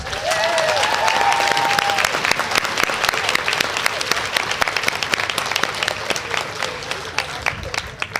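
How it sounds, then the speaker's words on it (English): A crowd at a nursing pinning ceremony applauds in a long, dense burst that thins slightly toward the end, with a brief cheer or whistle early on and voices faintly underneath. "Can we just get one more round of applause for everybody?"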